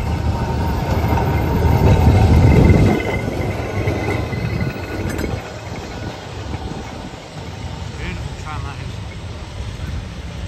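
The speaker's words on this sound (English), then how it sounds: "Charlie Caroli tram, folks." A heritage tram rolls past near North Pier in Blackpool with a loud low rumble that swells for the first few seconds and then settles into a steadier mechanical drone under busy seaside background noise.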